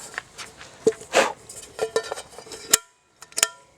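A frying pan taken out and handled at a campfire for bannock bread, with a series of close metallic clanks, scrapes and rattles separated by short pauses.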